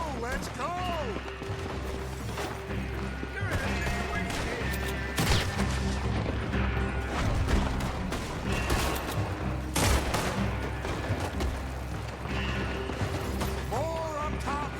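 Gunfire during a shootout in Red Dead Redemption 2, a steady stream of close and distant rifle and pistol shots cracking over a constant din, with shouting voices mixed in.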